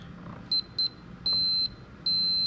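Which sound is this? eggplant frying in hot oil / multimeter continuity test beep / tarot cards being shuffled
multimeter continuity test beep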